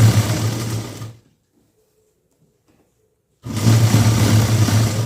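A sewing machine stitches a lining blouse in two loud, steady mechanical bursts, about a second at the start and a longer run at the end, separated by a couple of seconds of near silence.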